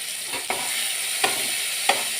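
Tomato, onion and chopped green chillies frying in a pan, a steady bright sizzle throughout with three soft stirring scrapes of the spatula, close and without talk.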